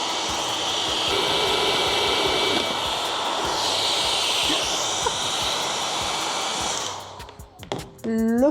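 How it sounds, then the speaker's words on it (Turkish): A hair dryer blows with a steady, loud roar as it warms the mold of a Korean-style hollow cake, then switches off near the end, followed by brief handling sounds. "Fön makinesiyle ısıtıp şeffaf pastamızın aşağı düşmesini sağlayacağız."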